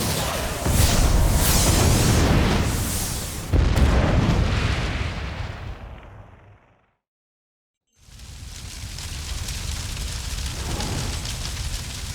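Explosions rumble in loud, dense bursts during a battle attack in the Harry Potter Deathly Hallows video game, then fade to near silence before the booming resumes.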